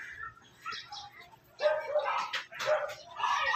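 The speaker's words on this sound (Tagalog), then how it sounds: "Diyan na nag-iingay ulit yung mga aso ng kapitbahay." A neighbor's dogs bark in rapid, overlapping yips and barks at moderate distance outdoors near a lettuce garden, continuous and fairly loud.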